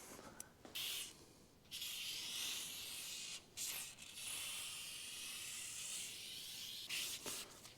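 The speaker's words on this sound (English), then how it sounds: "spray some silicone spray inside this ridge here" Several bursts of silicone aerosol spray hiss up close on a BMW E46 window seal ridge, each lasting a second or more, separated by short pauses.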